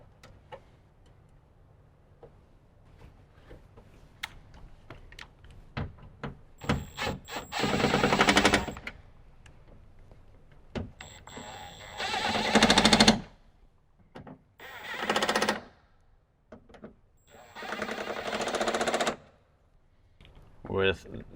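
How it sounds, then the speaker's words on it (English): Power tool driving and tightening four factory 10 mm bolts on a Toyota Tundra speaker bracket, heard as several separate loud rattling bursts of a few seconds each, with quiet pauses in between. "we'll get the 4 factory 10 mil bolts started, and then we'll tighten down the bracket"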